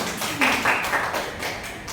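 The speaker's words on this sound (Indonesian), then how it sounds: "Ya, betul, tepuk tangan untuk kita semua" A small group in a school setting claps hands, a few distinct loud claps at first followed by softer, scattered clapping that tapers off.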